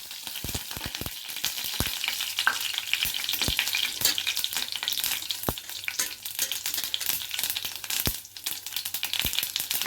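Half a spoon of cumin and mustard seeds sizzles in two spoons of hot oil in a pan, a steady hiss peppered with sharp, irregular crackles and pops as the seeds splutter.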